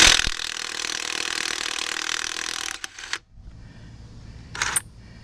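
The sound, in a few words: Chicago Electric 18 volt 1/2-inch cordless impact wrench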